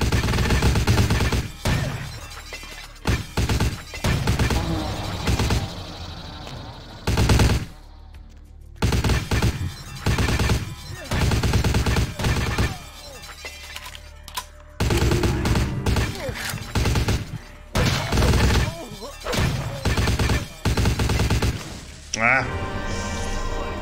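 Bursts of Uzi fire in Vampire: The Masquerade - Bloodlines, loud rapid strings of shots that start and stop repeatedly across the stretch, with someone speaking between some bursts.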